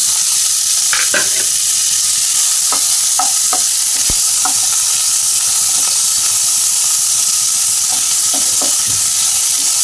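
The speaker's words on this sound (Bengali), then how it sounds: "পেঁয়াজগুলোকে আমি ছেড়ে দিলাম।" Sliced onions dropped into hot oil in a wok crackle and sizzle loudly and steadily, with scattered sharp pops and spatters from the pan and no talking.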